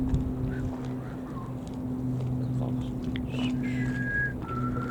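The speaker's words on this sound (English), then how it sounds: "Who was that who just whistled to us?" A person whistles in several sustained, wavering tones in the dark on Wellington harbour, over a low droning background like an engine.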